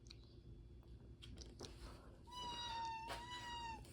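A house cat meows close by, one drawn-out, slightly wavering cry near the end, after some soft clicks and rustling in a workshop where a Yamaha XSR 700 fender is being cut.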